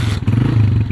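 A motorcycle's engine is started by a boy in a village, settling into a steady low rumble that fills the whole short moment, loud and close, with no talk over it.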